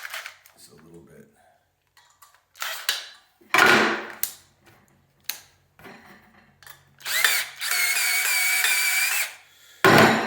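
A power drill drives a screw into a fish finder transducer mount in short bursts, then runs in one longer whirring stretch, close and loud, with scattered clicks and handling noise between the bursts.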